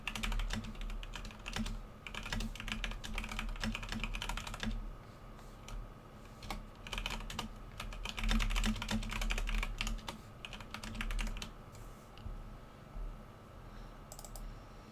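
Rapid typing on a computer keyboard, with continuous clusters of key clicks in irregular bursts and brief pauses, fairly faint and close, with no talk.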